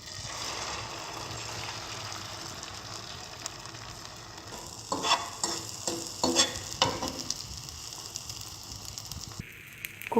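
Egg sizzles and crackles in a hot pan brushed with oil for a veggie omelette, a steady close frying hiss with a few brief scraping stirs and pops.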